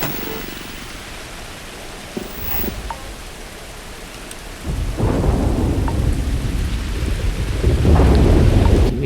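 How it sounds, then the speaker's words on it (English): Thunderstorm with rain in the video game Starfield: steady rain hiss with low rumbles building louder toward the end, a continuous storm wash with no clear talk. "Freezing liquid thunderstorm."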